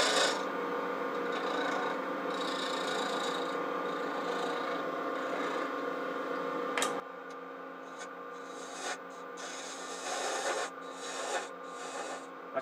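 A lathe tool scrapes steadily against a spinning holly wood lid, a continuous close rasping hum that turns into intermittent cuts with short pauses in the second half, no talk.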